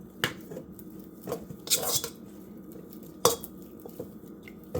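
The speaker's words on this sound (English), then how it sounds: "Okay, I'm gonna cream my butter." Butter is creamed by hand in a bowl, giving sparse knocks and scrapes of a utensil against the bowl with soft squishing between them, close and fairly quiet.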